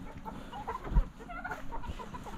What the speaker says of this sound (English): This old turkey hen